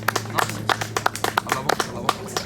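A congregation claps at a baptism service, a steady run of sharp, rhythmic hand claps with a low hum and murmuring voices underneath.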